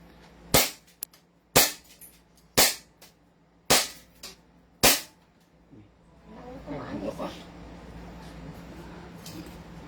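A 5.1 2011 SRC Hi-Capa airsoft pistol fires five sharp, close snapping shots at roughly one-second intervals, with one faint extra click between them, followed by quiet shuffling and handling noise.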